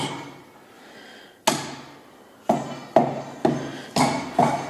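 Sharp mallet blows strike bolts during a Tesla Model S motor teardown: six loud, close metallic hits, the first alone, then five in a quicker uneven run, each ringing briefly with no talk over them.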